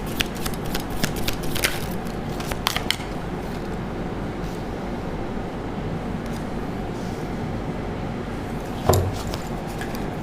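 Tarot cards shuffled by hand for a reading, giving a soft, steady riffling and rubbing with a few sharper flicks early on and a brief louder tap near the end.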